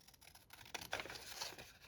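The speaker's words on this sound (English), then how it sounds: "So I'm going to cut that. I'm going to use my scissors that I prefer" Steel scissors, a duller older pair, snip through paper cardstock while altering an envelope tag pouch, giving a few crisp close cuts that build in the second half with slight paper rustle.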